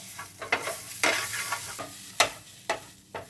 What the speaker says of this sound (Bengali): ওই যে ভাজা মশলাটা করে রেখেছিলাম ওটা পরিমাণ মতন ছড়িয়ে দিচ্ছি, আর নেড়ে চেড়ে ভালো করে মিশিয়ে নেবো